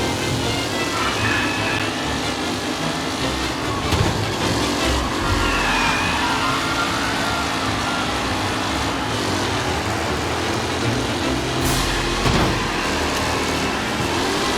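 Race cars roar around a track in the video game Mafia: Definitive Edition, a continuous dense drone of engines with passing whooshes, steady and fairly loud throughout.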